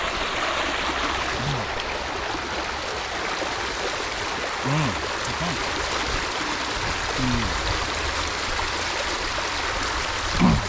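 A river current flows steadily in a broad, constant rush, close and full. Voices and a few faint splashes break through now and then.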